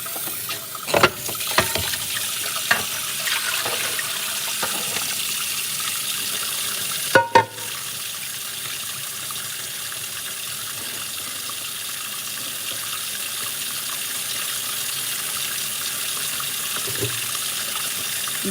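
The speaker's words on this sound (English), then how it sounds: "I'm just gonna rinse this pot out." Water from a kitchen tap runs steadily while a cooking pot used for black-eyed peas is rinsed under it. A few clunks of the pot against the sink come early and one more near the middle, and no one speaks.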